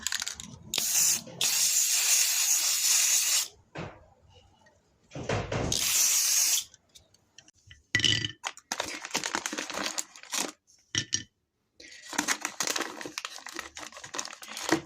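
Sealer is sprayed onto a concrete statue in several separate hissing bursts, some long and some short, with quiet gaps between them, all heard up close.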